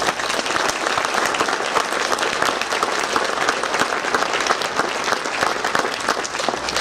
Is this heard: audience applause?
yes